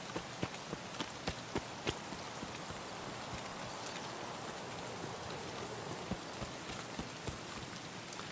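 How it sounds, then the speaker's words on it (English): Steady rain hisses across the whole clip in a video game, with scattered sharper drops and light taps standing out over the constant wash. "It's always raining."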